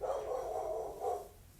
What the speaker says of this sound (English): we've got dogs barking